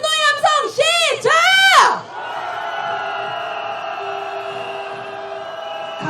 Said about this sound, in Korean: 윤석열에 대한 분노의 함성 시작!